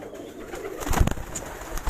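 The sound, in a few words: cooing high-flyer pigeons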